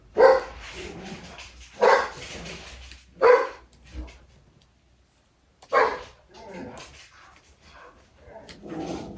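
A dog barks indoors in several sharp, loud bursts spaced a second or two apart, close by, with brief pauses and softer sounds between.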